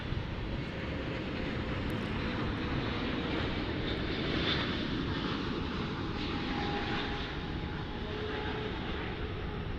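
An Emirates airliner passing over DFW airport, a broad steady jet roar at moderate distance that swells slightly midway, with no talk.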